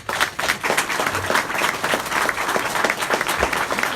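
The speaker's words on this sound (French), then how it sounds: "je souhaite ce soir qu'on applaudisse très fort Christian Le Marchand" A crowd claps loudly and steadily at a political campaign launch evening, sharp hand claps close by in a thick continuous wave.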